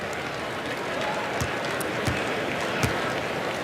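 Crowd noise in an arena during a Creighton at Marquette college basketball game, a steady roar with scattered light applause and a few sharp squeaks or thumps from the court.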